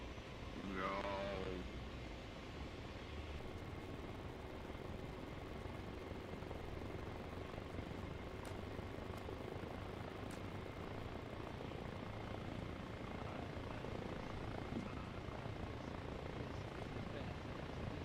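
Helicopter in the video game Arma Reforger, a steady broadband rotor and engine drone running throughout at constant loudness, with a brief voice near the start.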